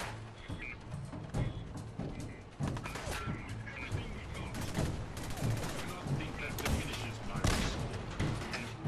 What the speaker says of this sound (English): How long does it take the cannons to be ready to fire again?